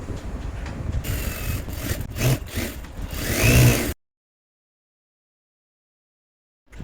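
A sewing machine stitches a saree side piece onto the lining of a katori blouse all the way around the edges. A close, buzzing motor whirs with uneven surges for about four seconds, then stops dead into silence.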